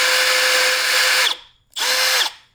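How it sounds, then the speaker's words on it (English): Power drill boring out a broken bolt on a BMW E9X/E82, the bit run without cutting oil: two loud, close bursts of steady high whine, the first about 1.3 seconds long, a short pause, then a briefer second run. "And it's a good drill. It's actually eating metal away pretty good."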